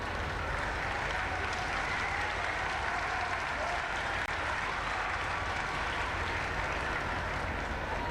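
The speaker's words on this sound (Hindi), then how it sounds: "आप हर शिक्षक के आने पे जोरदार ताली बजाकर उनका सम्मान करें।" Loud, sustained applause from an audience honouring teachers at a statue unveiling ceremony in Gorakhpur, a dense steady wash of clapping with no letup across the whole stretch.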